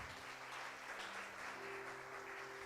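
A church congregation claps during a worship service, a steady wash of applause at moderate distance filling the whole moment, with a faint low hum underneath.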